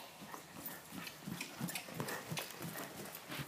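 A horse trots in an arena at a dressage clinic, its hooves clip-clopping in a steady rhythm, fairly soft and close, with no talk over the footfalls.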